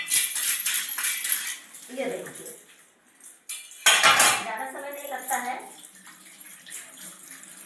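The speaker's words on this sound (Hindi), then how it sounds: "बर्तन धुल लेती हूँ" Steel utensils and dishes clink and clatter in a home sink while tap water runs in bursts, close and fairly loud, as someone talks in Hindi over the washing.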